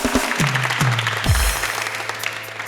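Applause from a TV talk-show studio audience, a busy patter of clapping mixed with a few low thuds and a swooping tone, fairly loud throughout.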